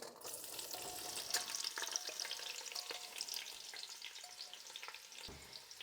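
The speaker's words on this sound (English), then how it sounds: "we're going to take our onions that we have chopped up, as you saw, and we're going to add it in" Chopped onions frying in oil and butter in a pan, a steady close sizzle with crackling pops throughout, no voices.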